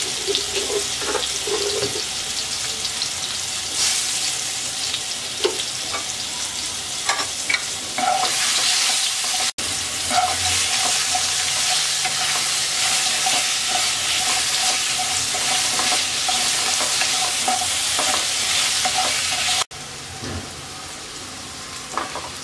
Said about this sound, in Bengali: এবার আলু ভেজে নেব।